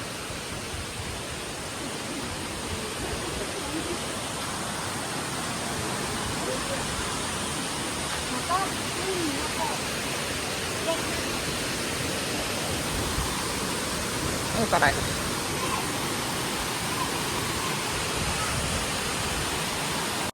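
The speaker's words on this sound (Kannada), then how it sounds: "ಅಲ್ಲಿ ಫಾಲ್ಸ್ ಚಿಕ್ಕ ಚಿಕ್ಕ ಫಾಲ್ಸ್ ಥರ ಇದೆ" Small waterfalls rush steadily in Meghalaya, a dense, even wash of falling water that stays loud and unbroken throughout with no voices.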